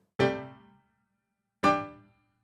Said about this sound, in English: I cut all the reverb now, so what you hear is just the pure sound.